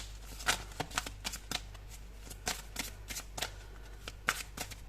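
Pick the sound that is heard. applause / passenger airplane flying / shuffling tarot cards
shuffling tarot cards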